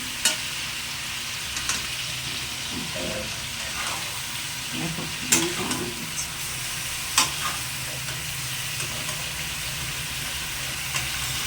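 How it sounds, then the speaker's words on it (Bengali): Chicken and potatoes fry in a pan with a continuous loud sizzle, joined by occasional utensil clinks and scrapes and a few brief murmured voices in the background. "আলুগুলো ভাজা হয়ে গেলে তারপর একটু চিকেনটাকে ভেজে নেবো।"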